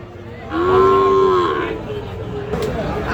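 A single loud, close moo lasting about a second at a livestock market in Ghoraghat, Dinajpur, where Sahiwal bulls and calves are sold, with faint market noise around it and a brief clatter afterward.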